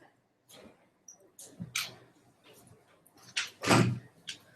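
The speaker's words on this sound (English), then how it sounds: "I'm just gonna close the door" A door being closed indoors while a phone conversation goes on elsewhere in the home, with a few soft thuds and a firmer bump near the end, under faint background noise.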